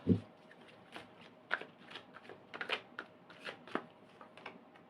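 Tarot cards shuffled by hand, soft rapid riffles and slaps in short irregular bursts, close and quiet with no talking.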